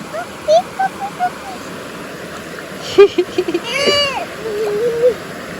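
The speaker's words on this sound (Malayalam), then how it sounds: "ഇവിടെ ഈ വെള്ളം ചാടുന്ന സൗണ്ട്" Continuous rushing water from a small nearby stream forms a steady backdrop while several voices talk and call out over it.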